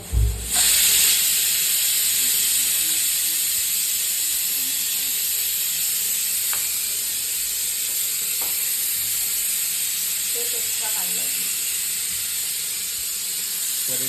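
Pressure cooker cooking corn on a home stove, giving a loud, steady hiss of escaping steam that fills the whole stretch, with a few faint knocks in the background.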